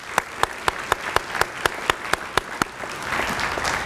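A banquet audience at an athletic hall of fame awards dinner applauds, with a loud run of rhythmic, evenly spaced claps over a broad wash of clapping that fills the room.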